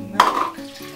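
A utensil knocks against a large bowl once and then drags briefly through cake batter of melted butter and milk, a single close clink fading into soft stirring.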